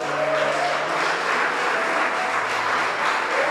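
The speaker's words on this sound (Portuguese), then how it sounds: "Pode aplaudi-lo." Church congregation applauding after a prayer, a steady, full wash of clapping that holds evenly for several seconds with faint background tones underneath.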